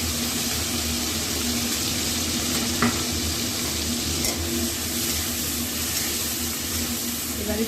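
Prawns frying in a large wok, a steady close sizzle and crackle running without a break, with a faint stirring scrape now and then and no voices.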